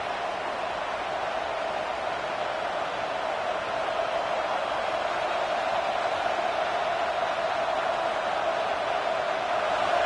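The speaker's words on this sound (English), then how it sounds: "Defense backed up, and this crowd trying to will them to get a big stop late." Football stadium crowd roaring for the defense late in a college game, a steady, distant wash of cheering and noise with no breaks.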